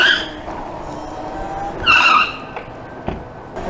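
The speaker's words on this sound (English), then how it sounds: "Now I'm out here screeching my tires" Tire screech from a Motor Goat V3 electric bike riding around town, a loud squeal swelling near the middle of the clip over steady road and motor noise, with a couple of short knocks afterward.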